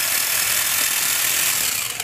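A cordless drill driver runs in reverse to back out a screw, a steady whirring buzz with a ratcheting edge, close and alone for about two seconds.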